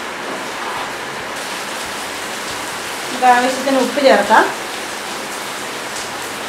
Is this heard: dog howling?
no